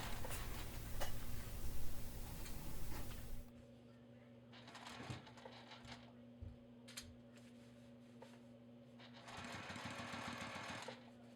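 Domestic sewing machine topstitching the edge of a plus-sized Victorian corded corset, its loud steady whir running at first, then quieter stop-start bursts with faint handling clicks between them.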